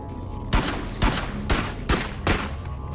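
Five loud gunshots from the VR game Boneworks ring out at steady half-second intervals, each a sharp broadband crack over a constant low background rumble, with no talking.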